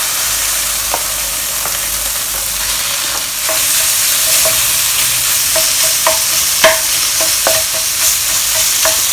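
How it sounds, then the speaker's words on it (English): Minced meat stir-frying in a hot pan for Singapore-style sizzling egg tofu, a loud continuous sizzle with scattered scraping taps of a spatula stirring, close and without talk. "Now we'll add in the minced meat."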